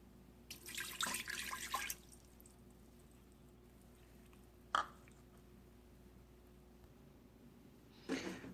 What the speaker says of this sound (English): take 1 cup of water and pour it into the inner pot